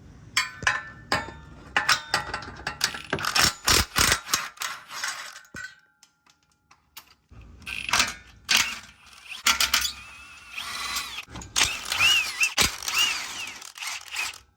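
Bolts on the bracket of a 2022 Genesis G70 3.3 twin-turbo are worked loose with tools during a downpipe install, giving sharp metallic clicks, ratcheting and clinks in close bursts with a short quiet gap midway.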